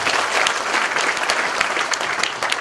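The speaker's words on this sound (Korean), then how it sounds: "큰 박수 부탁드리겠습니다" A crowd at the launch ceremony of a committee opposing the THAAD deployment in Seongju bursts into steady, vigorous applause lasting a few seconds.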